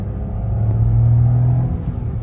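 A Maruti Fronx car engine pulling hard under acceleration, a close, loud steady drone with a rising hum that fades slightly at the end, with no talk.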